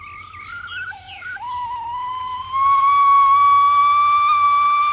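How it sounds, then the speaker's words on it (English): A Ghillie Kelly kettle starts whistling as its water comes to the boil: a wavering, uneven tone first, then a loud, steady, piercing whistle that holds to the end. "if things are working as they should have a nice little whistle any second"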